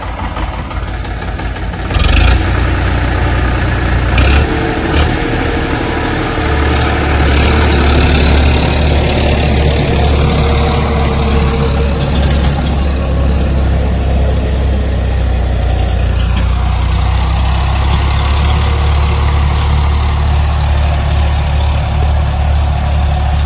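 An Indo Farm tractor engine runs steadily throughout, a loud, continuous low diesel drone with a few brief sharper knocks early on and no talking.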